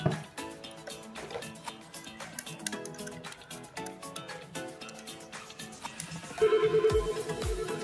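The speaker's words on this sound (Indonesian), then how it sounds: "Kita nelpon dari IP phone 1 ke IP phone kedua." An IP phone rings during a call placed between two IP phones on MikroTik routers, giving a steady melodic ringtone pattern with a brighter tone near the end.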